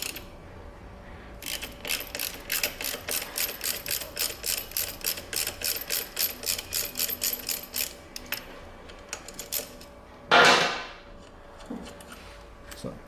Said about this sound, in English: You just take this one bolt out